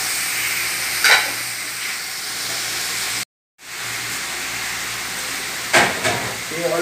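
Fish stewing in a pot for sinigang gets stirred, a steady simmering hiss with a few brief scraping bursts of the spoon, close by and alone, broken by a short gap of silence.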